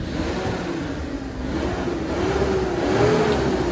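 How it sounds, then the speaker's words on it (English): A Mitsubishi Minicab engine runs steadily, a close, continuous mid-pitched drone that rises slightly in pitch and loudness toward the end, with no voices. "the car actually sounds and drives great"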